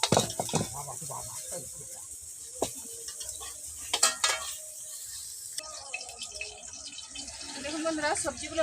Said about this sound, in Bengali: গাজরটাও হালকা লাল করে ভাজবো